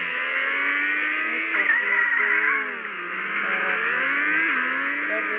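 Race car engine in a mobile racing video game, a sustained loud drone with rising and falling pitch sweeps as the car accelerates and shifts, steady throughout with no talking.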